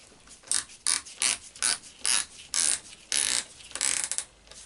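An Allen key tightening the chuck screw of a Makita cordless drill driver, heard as about eight short, sharp ratcheting click bursts in quick succession, close and alone.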